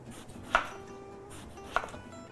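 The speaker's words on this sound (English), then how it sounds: "we'll cut the tip off, and then just do little slices" A knife slicing through an eggplant on a cutting board, two distinct crisp chops about a second apart in a quiet kitchen.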